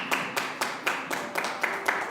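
A church congregation claps in a slow, even rhythm, about eight sharp claps over two seconds, moderately close with no talking.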